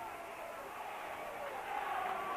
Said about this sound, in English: just listen to this crowd here shouting, Rovers, Rovers